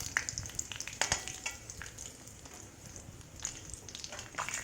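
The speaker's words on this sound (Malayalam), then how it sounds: "വറ്റൽമുളകൊന്ന് മൂത്ത് വരട്ടെ." Dried red chillies fry in coconut oil with fenugreek seeds, giving a faint, quiet sizzle with scattered small crackles and pops, heard up close with no talking.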